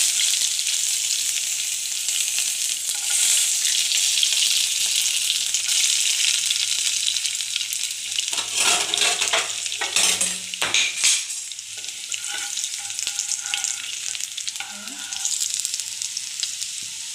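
Curry leaves and chopped garlic sizzle steadily in a hot pan, a loud continuous fry with a few brief clatters of a utensil partway through.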